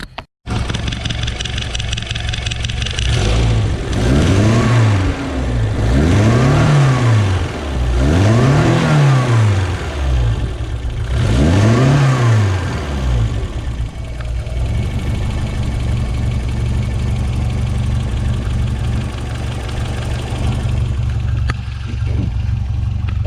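A BMW E30 engine fitted with a Walbro 255 fuel pump idles loudly and close by, then revs up and down four times in quick succession before settling back to a steady idle.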